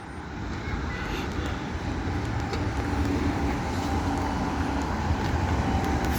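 Bus passing in traffic at Ashton Under Lyne, a loud, steady engine and road roar that swells slightly as it goes by, with general street noise and no talk.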